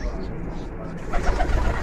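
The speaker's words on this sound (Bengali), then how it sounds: "আমি একটা অ্যাডাল কবুতর দেখাই।" An adult pigeon gives a short series of low, soft coos close by, with faint voices in the background.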